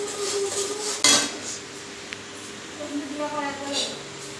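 A spoon stirs turmeric into cooking food in a pot for a dish of bishkochu (wild taro), with light metallic clinks and scraping against the pot, a sharp knock early on, and a voice talking nearby.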